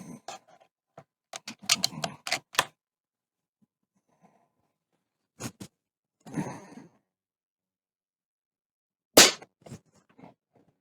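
Sharp single shots from an Air Venturi Avenger bullpup PCP air rifle, several sparse cracks separated by quiet gaps, along with faint handling clicks.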